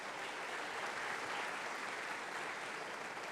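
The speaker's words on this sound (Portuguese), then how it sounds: "Vamos aplaudir o Senhor Jesus," Church congregation clapping in praise of Jesus, a soft, distant wash of continuous applause with no voices over it.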